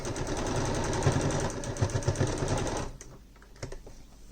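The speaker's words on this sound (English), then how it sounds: "I'm going to ensure that I do a little bit of back stitching or a lock stitch, whichever you prefer with your machine" A sewing machine runs steadily, back stitching to lock the seam on a baby quilt, its rapid mechanical whir filling the first three seconds before cutting off, leaving a few light clicks and handling sounds in a quieter room.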